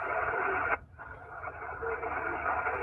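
Weak amateur radio signal buried in steady hiss and static on a portable station, with a brief dip in the noise partway through and no clear voice rising above it.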